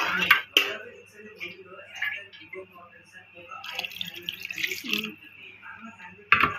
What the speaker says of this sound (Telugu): కొంచెం దీంట్లో కొంచెం నీళ్ళు వాటర్ వేసుకొని తిప్పి పోసేద్దాం